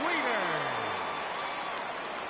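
A sustained crowd roar rises in a baseball video game, MLB The Show, as fans stand for a 3-2 count in a Red Sox at Orioles matchup; it is loud and steady, fading slightly over two seconds.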